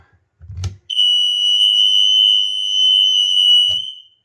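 After a dull thump, a shrill smoke alarm tone blares steadily for about three seconds, with other alarms sounding, before stopping, followed by another soft knock.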